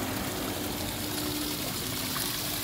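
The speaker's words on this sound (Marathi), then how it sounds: "तर वर धरण आहे आणि झऱ्याच्या माध्यमातून पूर्ण पाणी खाली आणलेलं आहे" Clear water rushes steadily down a channel fed from a dam above farmland, producing a constant, broadband flowing hiss that stays even throughout.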